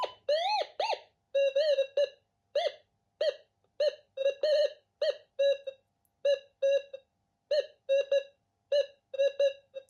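Minelab Gold Monster metal detector chiming over a hot rock: a steady run of short, bright, warbling beeps repeating about twice a second, loud and close with no talk.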